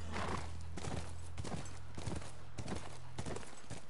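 Horse hooves clip-clopping in The Last of Us video game, a steady rhythm of fairly loud, close footfalls repeating over a continuous low hum, with no talking.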